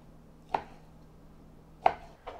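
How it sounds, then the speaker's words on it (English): A knife cuts sirloin steak into bite-sized pieces on a board: three crisp, separate chops, well spaced and fairly close, against a quiet background. "I'm gonna chop this up into bite-sized pieces."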